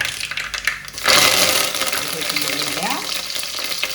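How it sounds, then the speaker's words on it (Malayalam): Mustard seeds crackle and curry leaves hit hot oil, a loud burst of frying sizzle that swells and stays dense and close, with scattered popping and no voices. "കടുക് പൊട്ടി വരുന്നു ഇനി അതിലേക്ക് നമ്മൾ കരിവേപ്പിൻ്റെ ഇലയാണ് ഇടുക"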